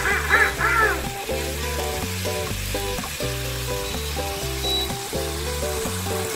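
Oil sizzles and spatters steadily in a pan as chicken fries for a roast chicken dish. The hiss continues under loud, rhythmic background music.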